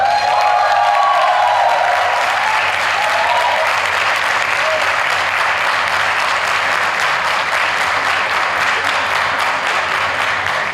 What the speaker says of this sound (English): Let's have a huge round of applause